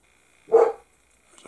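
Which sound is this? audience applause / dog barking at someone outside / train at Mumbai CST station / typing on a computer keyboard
dog barking at someone outside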